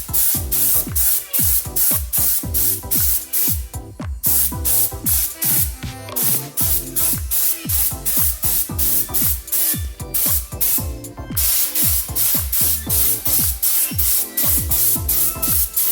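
A spray gun lays down lacquer in quick repeated bursts, loud hissing pulses in a steady rhythm with brief pauses, close and alone, on a cold day.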